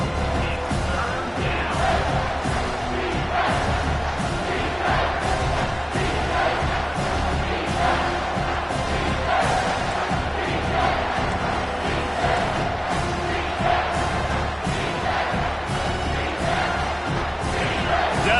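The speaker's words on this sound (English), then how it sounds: "Decibels rising as the crowd gets behind this defense on 3rd down." A college football stadium crowd roars loudly and continuously as a defense lines up on third down, a dense, sustained wall of cheering and yelling across the whole stretch.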